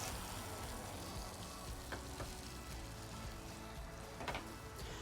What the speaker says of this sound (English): I can hear it sizzling away happily